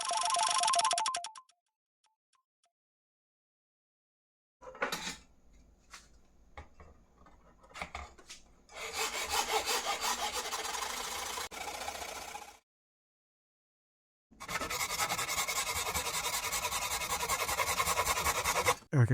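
A saw blade cuts through a bicycle steer tube in close, steady strokes. Two long bursts of harsh rasping are separated by pauses, with scattered clicks and handling noises between them.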